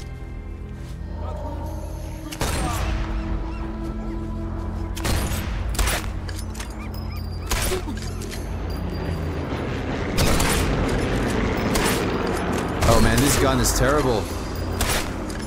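Silenced pistol shots in the video game Sniper Elite 4: several sharp, muffled bursts spaced a few seconds apart over steady game ambience, with someone talking over them.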